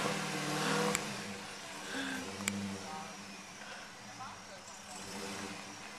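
A 2017 Dodge Challenger Hellcat SRT 707HP engine rumbles in a low idle with mild swells, moderately near, while people talk over it.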